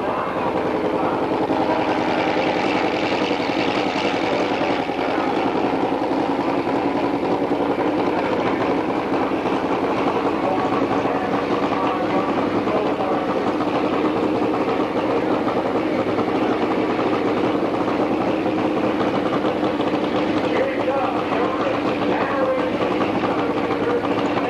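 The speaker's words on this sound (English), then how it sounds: "Front wheel on Brancacchio's Harley as he launches" A Harley-Davidson drag racing motorcycle engine roars continuously and loudly at KilKare Dragway during an AHDRA event, a dense, unbroken mechanical drone filling the whole stretch.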